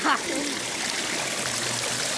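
A stream of water flows and trickles steadily outdoors, a constant close rushing wash with a faint murmur of voices underneath.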